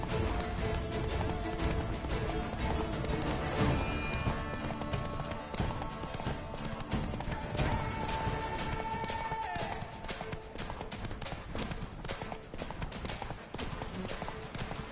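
Roach the horse gallops through The Witcher 3, with steady, close hoofbeats under music and a voice talking over the ride throughout.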